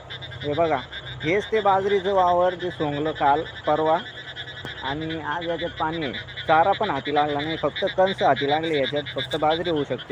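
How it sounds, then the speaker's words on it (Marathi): Frogs croak constantly and loudly in a harvested pearl millet field flooded by heavy rain, a dense chorus of rhythmic croaks that continues while someone talks over it. "बेडकांची ट्रॅव तुम्हाला ऐकायला येत असेल."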